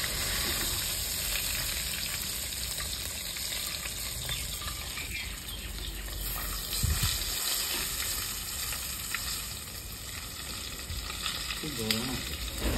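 Pieces of fish frying in a pan sizzle continuously up close, a dense crackling hiss with occasional louder spatters and a brief splash of water partway through.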